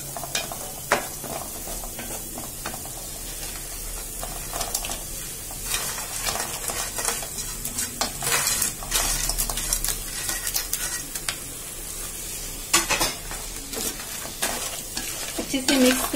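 Crab stir-fried in a well-roasted masala, a continuous close sizzle under steady scraping and clanking of a spoon against the pan, lasting throughout with no talk.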